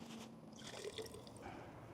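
Water poured from a container into a potted rose plant, a soft, close trickle and splash lasting about two seconds, quiet and alone without talk.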